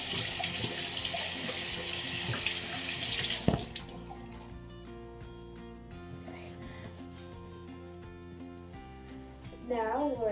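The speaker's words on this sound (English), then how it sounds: "It's gonna like rinse my hands off real quick." Running water from a tap splashes loudly as sticky slime is rinsed off hands, a steady rush for several seconds that cuts off abruptly, leaving a quiet room with faint noises.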